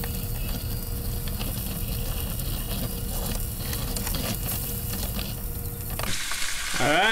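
T-bone steak searing in a hot pan, a loud continuous sizzle and crackle close up, with a short scraping, shifting sound at the end as the meat is moved.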